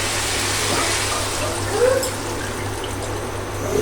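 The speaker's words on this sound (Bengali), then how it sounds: "এখন আমি যদি এটাতে পানি দিয়ে দিই" Water pours and trickles briefly into a pot, a close splashing gurgle over a low background hum.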